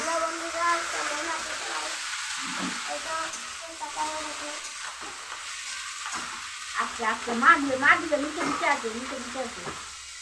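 Food fries in a pan at home during a festive family cooking session, with a strong continuous sizzle and stirring sounds and a few voices heard faintly in the background.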